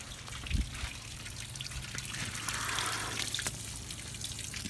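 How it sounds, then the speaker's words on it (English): Water trickles steadily from an RV trailer's tap, fed by a fresh water tank pump, a continuous close splashing flow with a brief thump near the start and no talking. "see the water coming out?"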